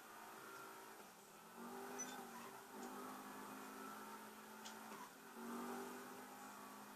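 A car cruises along a highway in GTA 5 Online on PS3, its engine a steady, loud drone with pitch shifts as it slows and speeds up, heard alone.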